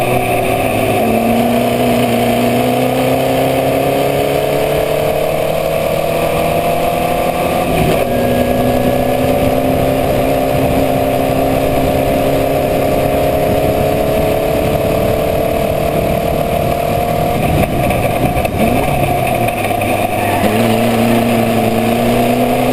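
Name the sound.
Formula Vee race car engine at speed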